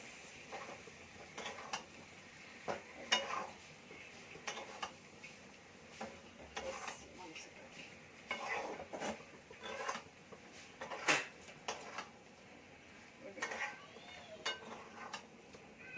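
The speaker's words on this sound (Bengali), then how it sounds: "মশলাটা দিয়ে ভালো করে মাংসটা আমি কষবো" Chicken pieces are stir-fried with masala in a pan, heard as quiet, intermittent clinks and scrapes of a spoon against the pan at close range, alone without talk.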